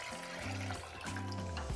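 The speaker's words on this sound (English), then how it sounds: "We're going to cover them with water," Tap water runs steadily into a pot holding dried chiles ancho, morita and de árbol, a continuous splashing gush with a rising, hollow filling tone, close and alone.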